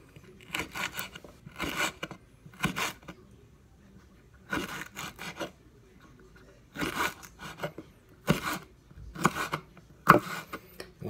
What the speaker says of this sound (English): Chop your peppers real nice and thin.